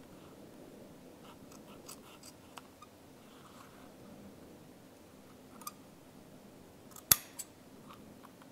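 Scissors snip excess tape while a leather wallet is assembled, making faint, sparse clicks with one sharper cut near the end over a quiet room.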